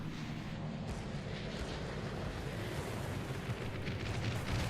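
Carrier aircraft in World of Warships drone steadily through the air, a dense, low, continuous engine roar with faint rumbling bursts beneath it, unbroken and fairly loud.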